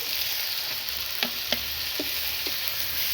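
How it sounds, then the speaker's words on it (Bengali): Spices and green chilli paste sizzling in a pan for ghugni, with a steady low frying hiss broken by a few distinct scrapes and taps of a spoon stirring against the pan. "ভালো করে নেড়ে নেব"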